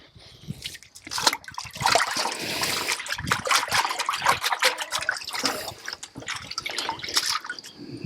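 Hose water washes slime off flax fibers after retting, a loud, close, continuous splashing spray with uneven gushes and dribbles throughout.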